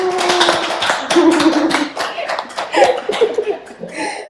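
An audience at a book launch talk for a women's tarot book claps in a lively close burst, mixed with laughter and chatter, fading and swelling before a short tail of voices.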